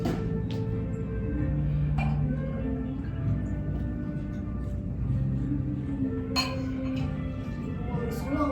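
Wine glasses clink together during a family dinner toast, giving a few bright rings over a low room murmur with a voice now and then.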